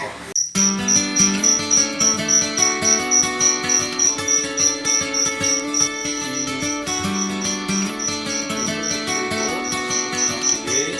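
Crickets chirp in a dense, continuous, high-pitched trill at a natural cricket farm in Randu Batu, Blora, with a steady pulsing rhythm, close and loud, while faint music and voices run beneath.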